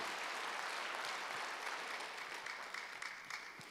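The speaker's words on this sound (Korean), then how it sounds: "박수를 하세요" A church congregation at a Wednesday worship service breaks into loud, sustained applause, a dense wash of many hands clapping that holds throughout and fades only slightly toward the end.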